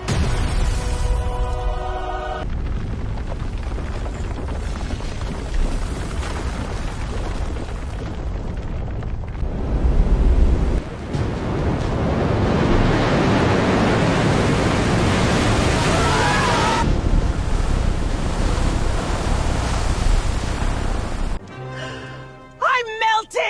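A wave and towering wall of water roar as loud, continuous rushing noise, swelling and heaving for most of the stretch before cutting off abruptly near the end.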